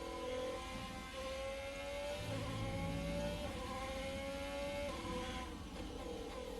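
A Formula 1 car engine in the F1 2020 racing game by Codemasters whines steadily at high revs, its pitch climbing and dropping through gear changes on an unrubbered track, loud and continuous with no voices.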